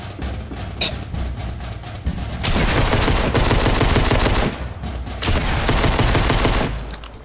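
Loud Fortnite gunfire with scattered single shots and then sustained rapid automatic bursts that cut off and start again, close and with no voices.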